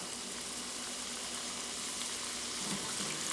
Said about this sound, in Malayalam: നമ്മൾ ചീഡാസ് ഇട്ടിട്ട് ഫ്രൈ ചെയ്ത് കൊടുക്കുക.